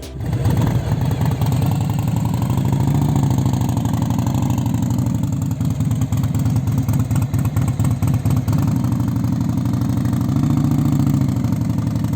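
An Indian Dark Horse motorcycle's V-twin engine runs steadily and loudly with a deep, pulsing low rumble for the whole stretch, rising slightly near the end.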